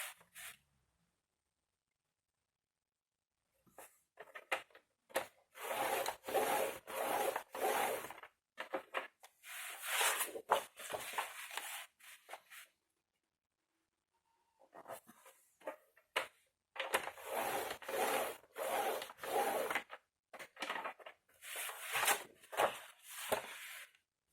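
Scrapbooking paper being creased into folds all around, heard as repeated dry rubbing and scraping strokes in close bursts, with quiet pauses between groups.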